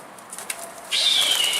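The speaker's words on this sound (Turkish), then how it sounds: "Aa geldi kuş gel bu tarafa." A thirsty runaway baska pigeon flaps its wings nearby, a soft rustle followed by a sudden louder burst of fluttering with a thin high tone riding over it.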